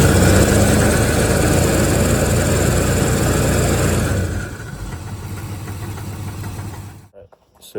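Truck engine running with a faulty pulley making noise, loud and steady for about four seconds, then dropping to a quieter idle before cutting off near the end.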